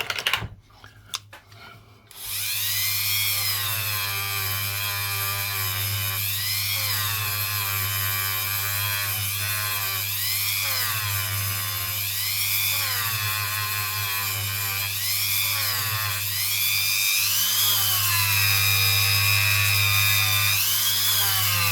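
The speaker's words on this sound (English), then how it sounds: "This is like quad zero steel wool on the end of this Dremel." A Dremel fitted with quad zero steel wool buffs fire scale off a copper ring made from a two pence coin, a loud continuous high-pitched rotary whine with a low hum and rhythmic rubbing swells, close up and without speech.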